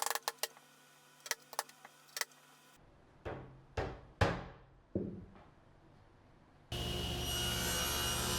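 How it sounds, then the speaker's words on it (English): Wood stock being cut for floating tenons and French cleats in a woodworking shop: a handful of short, loud sawing bursts spaced about a second apart, followed by a steady broadband machine roar near the end, with no talking. "I cut some stock to make the floating tenons and French cleats to hang it from the wall."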